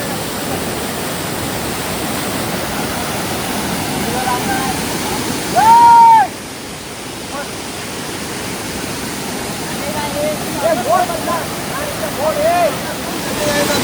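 Bheli waterfall runs strongly after heavy rain, a loud continuous roar of rushing water heard nearby, with a brief whistle-like tone and faint voices over it.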